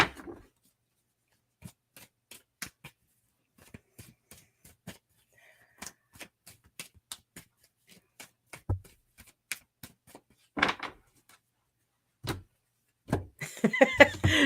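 Tarot cards given a loose, sloppy shuffle on a table: scattered soft slaps and riffles at irregular intervals in an otherwise quiet room, with a denser flurry of card noise at the end.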